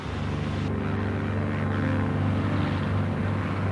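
Propeller-driven Avenger torpedo bomber engine droning steadily and loudly, a continuous low roar with no speech over it.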